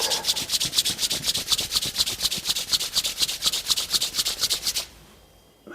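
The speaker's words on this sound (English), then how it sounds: "Now, slowly rub our palms." Palms rubbing together during a meditation session, a fast, even swishing rhythm of about five strokes per second, close and clear, ending abruptly into quiet.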